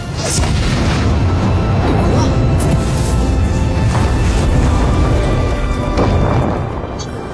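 A loud, sustained rumbling boom of a magic explosion roars continuously for several seconds like a massive blast, dense and overwhelming before tapering slightly at the end.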